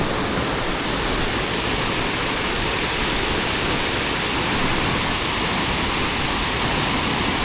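Loud, steady roar of a waterfall near Athirappilly, a dense unbroken rush of water close by, with no talking.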